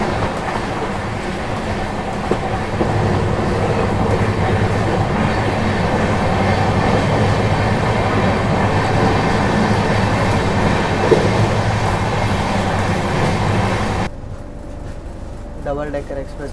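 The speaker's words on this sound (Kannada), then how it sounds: "ಡಬಲ್ ಡೆಕ್ಕರ್ ಎಕ್ಸ್ಪ್ರೆಸ್ ಜೊತೆ ಕ್ರಾಸಿಂಗ್ ಆಗತ್ತೆ ನೋಡ್ರಿ" Passenger train running on rails during a Tirupati to Bengaluru journey as a Double Decker Express crosses, a loud steady rumble with rhythmic clatter that drops away abruptly near the end, faint voices underneath.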